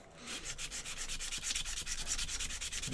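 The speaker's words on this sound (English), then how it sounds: "Let's get these just sanded down, just to get rid of the rough edges" Wooden pieces being hand sanded to take off rough edges and nub marks, a steady rhythmic back-and-forth scratching of abrasive on wood, close and continuous with no talk.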